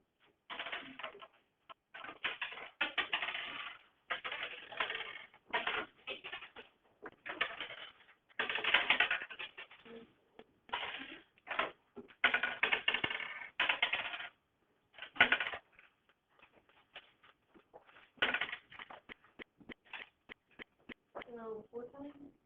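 Coins are flipped and dropped during a classroom probability activity, with many small scattered clinks and clatters in irregular bursts mixed with the murmur of people talking.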